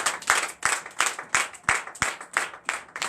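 Rhythmic congregational clapping in a Sunday church service in Comè, Benin, roughly three claps per second in a steady beat, moderately loud and close, with a faint voice beneath.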